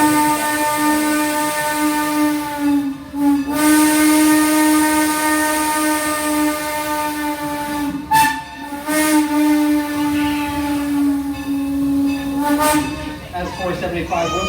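Steam locomotive No. 475 sounds its whistle for a grade crossing: a loud, sustained multi-tone chime blown in several long blasts with brief breaks, over a steady background hiss of steam.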